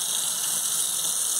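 Tap water runs steadily into a coffee maker's reservoir in a kitchen, a continuous bright hiss with no pauses over the short stretch.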